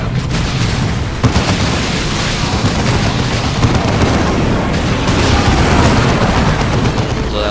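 Frag grenade explosions in the real-time strategy game Dawn of War 2 burst amid dense, loud battle noise, with booms and gunfire layered continuously throughout.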